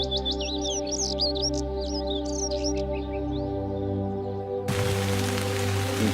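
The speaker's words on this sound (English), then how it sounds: "A bunch of Tweety birds up there." Bird chirps and trills fill the air on an island in the virtual-reality nature game Nature Treks VR, bright and busy early on, thinning out, then giving way to a sudden steady hiss of rain over a constant low ambient hum.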